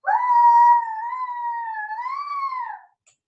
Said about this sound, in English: She just kept on howling.